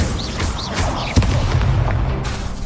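The Incendio fire spell is cast in the Hogwarts Legacy video game, a booming burst inside a dense, loud wash of game effects and music, with a sharper thump partway through.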